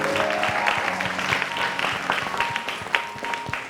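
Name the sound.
audience applause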